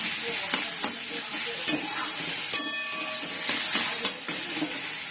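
Onion and tomato fry in a pan with a steady close sizzle while a spatula stirs and scrapes, giving rhythmic knocks and clatters against the metal; no talk is heard.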